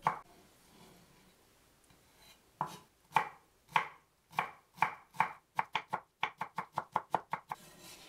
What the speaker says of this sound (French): je coupe 100 g de pousses de bambou en tout petits cubes